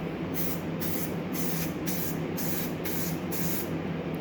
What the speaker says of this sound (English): I'm gonna go ahead and spray these areas right here with some self-etch primer